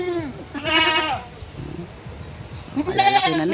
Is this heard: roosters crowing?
no